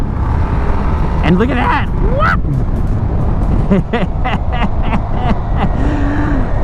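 A 2025 Indian Sport Scout motorcycle accelerating, its engine a steady, loud drone mixed with wind rush beneath a rider talking close by.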